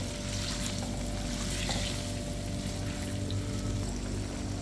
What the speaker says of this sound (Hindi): और चिकन को हम वाइट होने तक कुक करेंगे हाई फ्लेम पर।